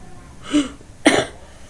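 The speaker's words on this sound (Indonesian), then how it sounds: "karena batuk teh kan, batuknya teh udah grok-grok kayak gitu" A baby coughs twice, wet and phlegmy, with a short pause between the two rattly bursts; close and fairly loud.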